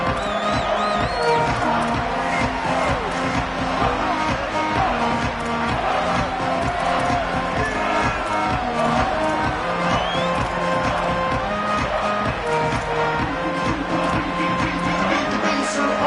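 In the College Football 27 video game, a stadium crowd roars continuously at kickoff, a dense, loud wash of cheering with music-like tones and voices mixed in.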